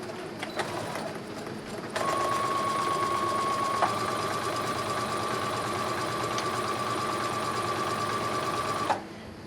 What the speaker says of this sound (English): I'm going to sew a 5/8 inch seam allowance.